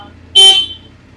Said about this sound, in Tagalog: Pag binusina mo yan,